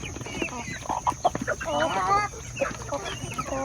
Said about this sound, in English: the grown chickens